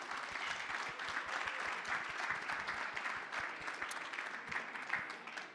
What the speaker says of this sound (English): can we give an applause to all of you for being here